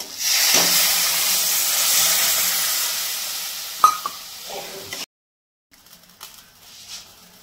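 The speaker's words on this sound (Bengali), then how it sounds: "এখন একটুখানি আমি একটু হালকা গরম জল দিলাম।" Warm water poured into hot oil in a pan while cooking a Bengali mustard-flower fish curry, a loud steady sizzle and hiss that fades, then a few faint clinks and stirring sounds.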